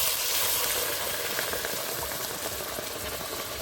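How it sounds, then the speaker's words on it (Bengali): Hot water is poured into a pan of cooking potatoes and hisses into a steady, loud sizzling rush that lasts the whole moment, close up with no voices. "গরম জলটা দিয়ে দিচ্ছি"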